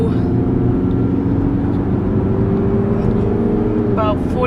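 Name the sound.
Toyota RAV4 car accelerating and shifting gears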